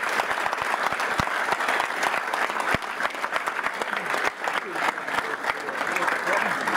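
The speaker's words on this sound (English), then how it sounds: "Big round of applause for that." A crowd at a youth football academy award show applauds steadily and loudly for the whole stretch, dense clapping with some crowd noise mixed in.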